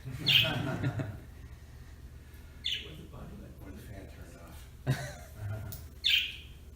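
Birds give a few sharp, high chirps at intervals, close by and fairly clear, separated by quiet stretches with a low background hum.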